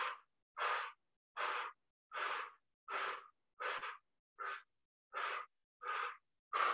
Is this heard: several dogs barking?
no